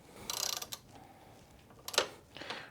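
A 9/16 socket on a torque wrench set to 30 foot-pounds tightens a bolt while installing a TRA DecoGuard on a single lock, heard as quiet, close ratcheting clicks in a few short bursts.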